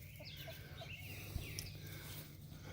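Hens clucking inside a chicken coop, soft scattered calls over a steady low hum, with one brief knock midway.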